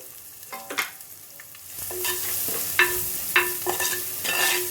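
Onions sizzling in oil with popped mustard and fennel seeds, a steady fry noise punctuated by several sharp stirring scrapes and clacks of a spoon against the pan, fairly close with no voices.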